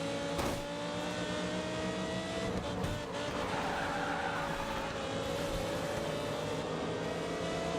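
McLaren race cars roar steadily in GRID 2 racing, a continuous engine drone with tyre squeal and a sharp passing burst near the start, loud and with no talk over it.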